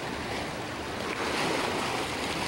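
Ocean waves washing against a rocky shore, a steady loud rush of surf that swells slightly midway, with some wind noise on the microphone and no talking.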